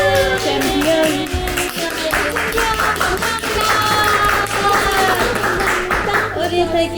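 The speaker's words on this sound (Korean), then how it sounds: "우리 대기실 박수 소리 최고다" Applause and clapping from a group in a music-show waiting room, steady and lively with overlapping voices and cheering throughout.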